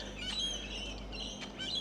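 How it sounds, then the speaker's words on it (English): Birds chirp and tweet faintly outdoors near a ferry dock, short calls over a steady low rumble of engine and wind noise. "lots of birds here."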